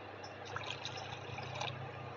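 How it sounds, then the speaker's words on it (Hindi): Water poured into thick besan batter while making paneer masala chila, a soft, steady trickling splash lasting a couple of seconds, close and fairly quiet with no talk. "अब इसमें हम और पानी डालेंगे"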